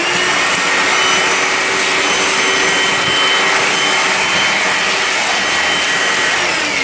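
Milwaukee M18 compact cordless vacuum runs loud and steady, a constant high whooshing roar as it sucks up a nail, wood chips and a piece of drywall, with no talk.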